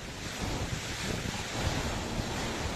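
Strong, roaring typhoon wind gusts in Cagayan, Philippines, blow steadily and loudly, buffeting the microphone with a dense rush of noise and no voices.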